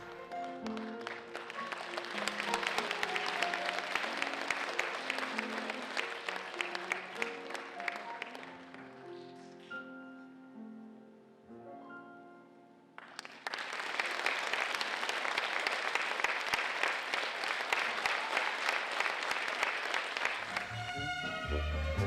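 Audience applause at a Mordovian Philharmonic concert marking a women's holiday: loud, sustained clapping with piano notes ringing underneath, a quieter stretch where the piano stands alone, then a second strong wave of applause.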